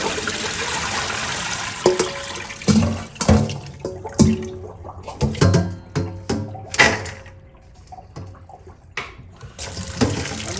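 Tap water runs over fresh green beans being rinsed in a sink, with splashing, clattering bursts as the beans are stirred and swished, alternating with calmer trickling stretches.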